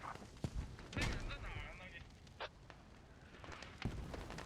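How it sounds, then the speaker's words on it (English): Mortar fire in Squad during a competitive match, with several sharp explosive blasts and impacts scattered among gunfire and rumbling battlefield noise. "Oh, what a mortar taking out lands."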